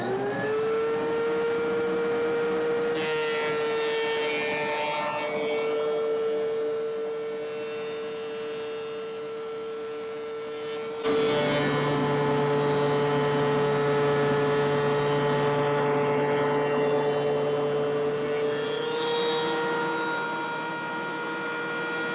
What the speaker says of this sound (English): It's redwood, I believe, going through, and you can see how the chip cyclone system will work.